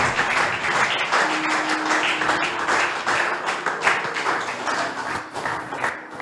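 A church congregation claps steadily throughout, a dense, continuous wash of applause with a few faint voices mixed in.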